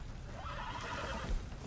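A horse neighs loudly in a multiplayer video game, a whinny rising over steady game background noise with faint thuds.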